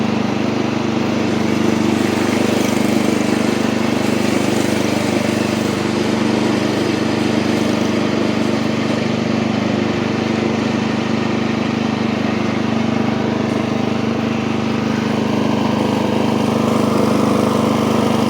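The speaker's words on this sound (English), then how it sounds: "Little stutter in the engine there." Old Montgomery Ward Power Kraft garden tractor engine running steadily up close, a loud continuous chugging drone with a slight rough unevenness and a small stutter.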